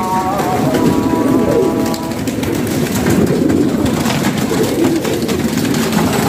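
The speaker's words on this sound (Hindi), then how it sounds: "कुछ कबूतर ये फिर रहे हैं।" A rooftop flock of pigeons feeding on grain, with steady overlapping cooing and rustling close by, loud and continuous throughout.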